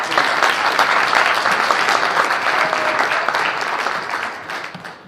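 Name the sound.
audience round of applause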